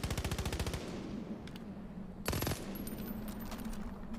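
Rapid automatic gunfire from a weapon in the video game Far Cry 5: a fast burst of close, loud shots at the start, then another short burst after a pause, over a steady game background hum.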